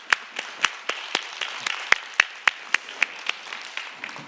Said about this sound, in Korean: 부활의 주일 큰 기쁨으로 우리에게 오신 우리 예수님께 한번 영광의 박수 한번 올려주면 좋겠습니다